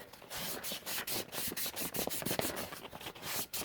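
Someone scrubs and polishes a cut cosplay head piece, making a series of quick, scratchy rubbing strokes in an uneven rhythm, close and fairly quiet.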